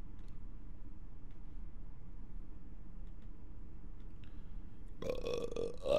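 A loud, drawn-out belch bursts in near the end after several seconds of quiet low background hum, rough and close to the microphone.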